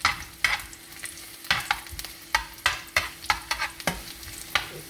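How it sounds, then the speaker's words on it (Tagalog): Food frying in a pan for sweet and sour pompano, a steady sizzle punctuated by sharp, repeated stirring and scraping strokes up close. "Frying."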